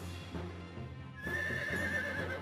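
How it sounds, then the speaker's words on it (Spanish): A horse whinnies midway, a drawn-out high neigh over soft shuffling and low background noise. "Ella está montada en un caballo."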